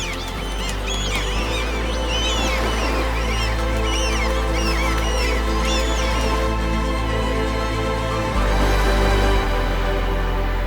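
Seagulls cry at a Danish fishing harbor, their repeated squawking calls overlapping at moderate distance above a steady low drone that runs throughout.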